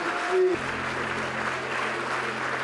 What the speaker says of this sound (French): Plus fort que ça, les applaudissements.